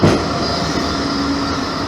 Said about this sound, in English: There's a tram pinging at me